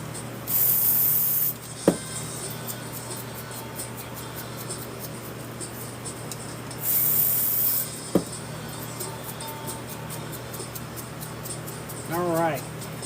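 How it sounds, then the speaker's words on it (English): White spray paint flicked off a toothbrush onto a painted canvas to make stars, heard as quiet bristly spattering with a few short hissing spray bursts and faint clicks, fairly close. "And we're just going to flick some stars on this paint."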